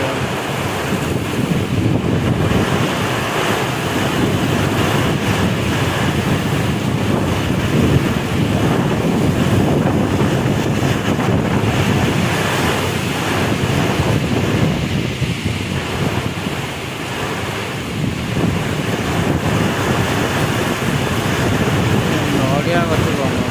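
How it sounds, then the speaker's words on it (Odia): Strong wind of a Kalbaisakhi storm during a motorcycle ride roars steadily and loudly across the microphone, a continuous buffeting rush with no breaks. "ପୁରା ବାତ୍ୟା ଭିତରେ ବାତ୍ୟା ପୁରା ପୁରା କିଛି ବି ଦେଖାଯାଉନି।"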